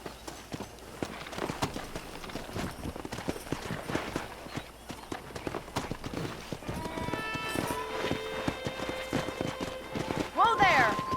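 Red Dead Redemption video game: hooves pound rapidly as horses gallop, with voices shouting over them and a horse neighing near the end.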